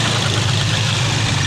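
A brand-new Rusi Macho 175cc motorcycle idles during idle-screw adjustment, a steady, close, low engine putter that stays even for a brief moment with no talk.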